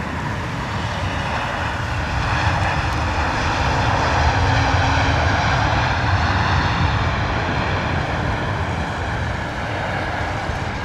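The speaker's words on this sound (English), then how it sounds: "Here we go, British Airways Dreamliner coming in." A British Airways Boeing 787 Dreamliner on landing approach at London Heathrow in wet, windy weather, its jet engines producing a steady, loud, broadband roar that swells slightly mid-pass, with no talk over it.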